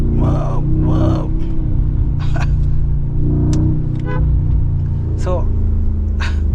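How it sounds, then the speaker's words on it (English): A Mercedes G63 AMG engine in sport plus mode gives a deep, loud rumble from inside the cabin, rising and surging steadily, while the driver's exclamations come through over it. "In sports plus, the engine gets instantly very responsive."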